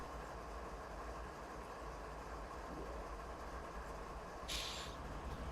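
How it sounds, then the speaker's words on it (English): A train in Train Simulator 2019 backing up on a Canadian mountain pass to couple cars: a continuous low rumble, then a brief sharp hiss of air near the end. "We want to back up and pick up the rest of our train."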